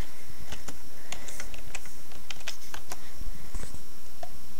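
Rapid, irregular clacking of a computer keyboard being typed on at close range, crisp individual keystrokes in short bursts over a quiet background with no talking.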